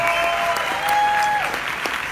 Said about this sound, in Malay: jadi tepukan untuk anda semua